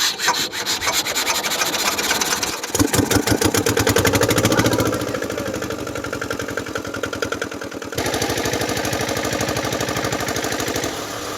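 A boat engine starting and then running steadily on a river: a loud, rapid mechanical chugging that shifts in pitch and intensity as it settles, close to the listener, with no speech over it.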